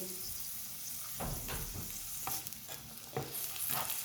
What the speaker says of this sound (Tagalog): igisa ang onion guys